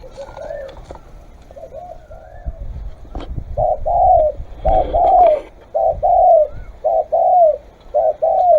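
A spotted dove coos in a repeated rhythmic series of soft, rolling calls, close and clear, with faint background noise between the phrases.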